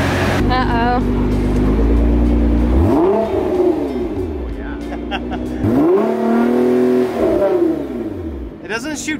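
A straight-piped Nissan R35 GT-R revs hard nearby, its loud engine note climbing and falling in repeated sweeping pulls, with voices talking over it.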